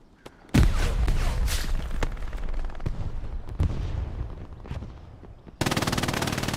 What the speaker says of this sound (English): The Butcher hip firing his MG at Turkey.